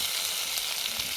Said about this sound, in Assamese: এতিয়া আমি মাংসখিনি বাকি দিম।